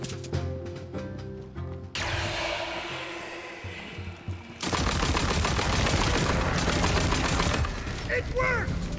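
Rapid, dense gunfire from a hex caster weapon in Tiny Tina's Wonderlands erupts loud and sustained through the second half, following quieter game effects and voices.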